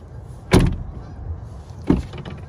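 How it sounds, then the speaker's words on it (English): A Ford Bronco door is opened and then shut, giving two loud, close mechanical clunks about a second and a half apart with a loose, rattly edge, and no talking. "when you open and close the door, it's like it's loose"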